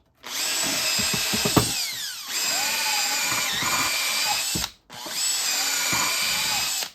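A power drill fitted with a small wire brush cleans out head bolt holes in a stuck old engine block from a Michigan AM shovel, whining loudly and steadily in two long runs separated by a brief stop, with faint scraping beneath.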